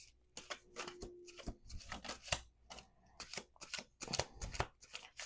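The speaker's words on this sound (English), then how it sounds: "Let's do two more shuffles." A deck of playing cards being shuffled, with repeated quick riffling bursts and soft rubbing between them, close up and fairly quiet.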